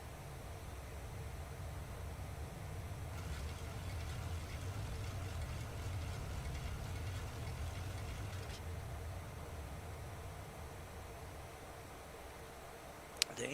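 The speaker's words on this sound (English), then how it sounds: "The engine sound on this is really, really nice." Jet engines of a Boeing 737 Classic in a flight simulator game hum as a faint, steady broadband drone with a low rumble, continuous throughout without talk.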